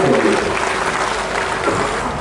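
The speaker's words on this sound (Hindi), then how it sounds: "दोनों हाथ जोड़कर ताली बजा दीजिए" A crowd at a political rally in Nagda claps together, a dense, loud patter of hands that holds across the whole short stretch.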